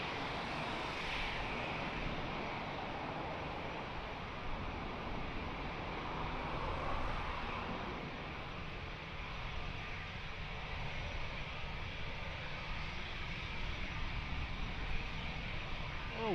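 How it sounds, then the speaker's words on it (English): A Hawker business jet lands at Lisbon Airport, its engines a steady broad roar that stays fairly even and moderately distant for the whole stretch, with no voices over it. "next to land, never seen. Sarah Airways with the Hawker"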